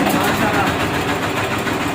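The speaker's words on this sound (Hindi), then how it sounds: "ये मेरा इंजन चलता रहे। तो हम इसे स्टार्ट करते हैं।" A flour mill (chakki) engine runs with a loud, steady, close mechanical drone that continues unbroken throughout.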